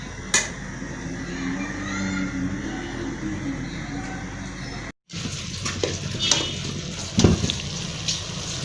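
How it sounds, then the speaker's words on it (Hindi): Whole chillies and onion tempering in hot oil for mash dal, a steady close sizzle with spoon stirring and scraping, broken by a brief silent gap midway, then livelier crackling and clinks. "साबुत मिर्च और प्याज का भगार लगेगा।"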